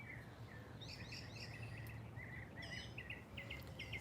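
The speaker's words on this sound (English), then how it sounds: "I can't believe how beautiful the birds sound still. They're still singing." Several small birds sing and chirp outdoors in repeated bursts of clear, high trills, fairly distant and soft over a steady low hum, with no talk.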